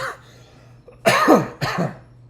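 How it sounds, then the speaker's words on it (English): Two harsh, close coughs in quick succession after a faint throat sound, loud and raspy. "just because of this cough"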